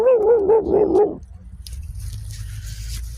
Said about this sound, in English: I brought my dog out here with me.